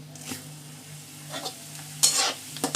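Whole spices, cinnamon, cardamom, cloves and shahi jeera, sizzling in hot oil while a spoon stirs them in a pan, soft steady frying crackle with a few scraping strokes against the metal, no talk.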